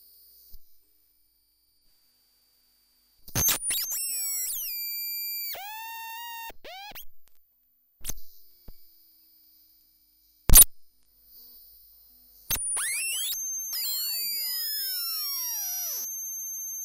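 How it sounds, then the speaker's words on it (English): Piercing, high-pitched modular synthesizer tones in bursts, some whistly and sweeping, others harsh and buzzy, separated by short silences and sharp clicks. "There's going to be some really high frequency sounds and some of it quite aggressive."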